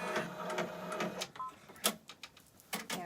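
A home sewing machine stitching slowly at a low speed setting, close, uneven bursts of mechanical whirring and tapping, starting and stopping.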